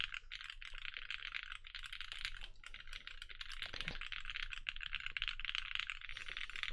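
Soft, rapid keystrokes on a custom-built Bias mechanical keyboard with a gentle bottom-out, a quiet, close, continuous patter of clacks with slight rattle.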